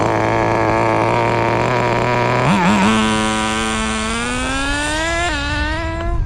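A Kyosho FW-06 nitro RC car with the kit's .15 engine buzzes loudly and close, holding a steady high-pitched drone, then revs up and climbs in pitch as it shifts through its two-speed gearbox and pulls away.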